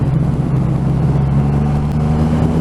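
A 2020 Triumph Rocket 3 motorcycle with a 2500 cc engine pulls hard on the road at speed, a loud, steady low engine drone with rising tones as it accelerates, heard close up over wind noise.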